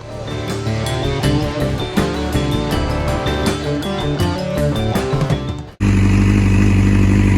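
A Suzuki GSX-R750 SRAD motorcycle engine running close by, loud and steady with a clattering rumble, shifting to a deeper, smoother idle near the end.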